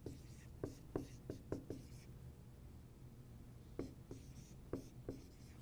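Pen scratching out math notes by hand in steady bursts of short strokes, close and soft over a faint room hiss, with a brief pause in the middle.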